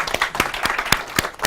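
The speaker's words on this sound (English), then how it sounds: "Panellists, please give them a round of applause and welcome them." A small audience claps for panellists at a fashion masterclass, a short burst of scattered, uneven hand claps heard fairly close with no voices over it.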